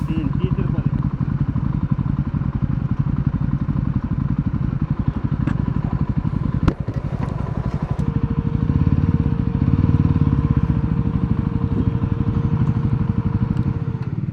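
Several motorcycles ride at steady throttle on a road trip to a temple, a continuous close engine drone with rhythmic mechanical pulsing and a brief knock midway, the engine tone shifting slightly later on.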